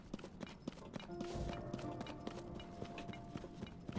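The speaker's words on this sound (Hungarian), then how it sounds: "Ott vannak lovak." Horse hooves clip-clop in a steady rhythm in Zelda: Tears of the Kingdom on Nintendo Switch, moderately close, with game music tones sustained underneath.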